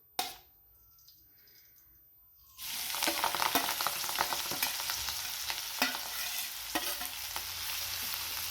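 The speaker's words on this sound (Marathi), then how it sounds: "आता ही आपण मिक्स केलेली भाजी या तेलामध्ये घालायची आहे" Mixed wild leafy greens dropped into hot oil, quiet at first, then an abrupt burst of loud, steady sizzling close by, with repeated stirring scrapes and clicks over the hiss.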